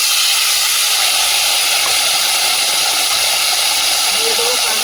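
Vegetable stems and potatoes hit hot oil seasoned with whole cumin and ginger paste, giving a loud, steady hiss and sizzle close up that stays even throughout.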